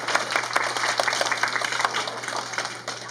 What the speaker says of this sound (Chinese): 所以我们先为我们的校长、老师、家人还有父母来个掌声鼓励吧